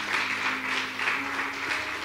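A church congregation claps hands together during worship, soft and somewhat distant, in a steady pulsing rhythm over a low background hum.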